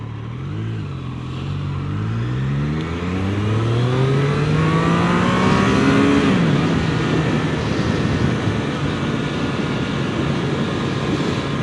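A Triumph Street Triple 765 RS motorcycle engine revs and accelerates, its pitch climbing through the gears with a loud, steady roar and wind rush, heard up close from the rider's position.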